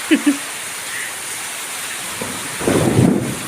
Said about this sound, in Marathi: पाऊस आला खूप बरं झालं बाबा पाऊस आला